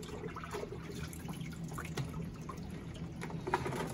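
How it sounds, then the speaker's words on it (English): Water runs and trickles at a sink while barber combs and brushes are rinsed, a faint steady splashing with small drips and clatters, no talking over it. "I'm in here and I'm rinsing all that off."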